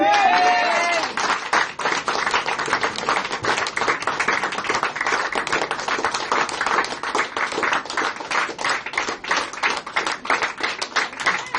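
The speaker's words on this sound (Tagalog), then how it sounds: "Pumalakpak kayo sa Diyos. Dagdagan niyo ba yung palakpak niyo?" A church congregation claps together in steady, dense applause that fills the room for the whole stretch, with individual claps audible in a brisk, uneven rhythm and a few voices calling out near the start.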